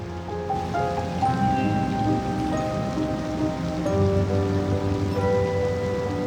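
Steady rain in the video game Cities: Skylines II pours across a broad surface, a dense continuous hiss of drops with a low rumble underneath, even and unbroken throughout.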